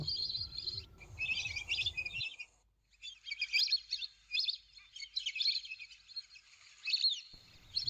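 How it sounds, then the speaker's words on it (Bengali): Birds on a wetland where ducks and water birds gather give bright, repeated chirps and tweets in bursts. A short quiet gap comes in the middle, and a low rumble sits under the start and the end. "অসংখ্য হাঁস পাখির আনাগোনা ছিল।"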